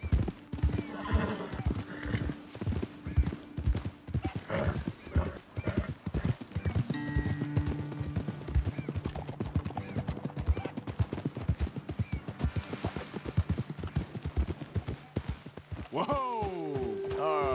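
Horse hooves clip-clop steadily in Red Dead Redemption 2 while a horse neighs and whinnies near the end, with someone speaking at times over the riding.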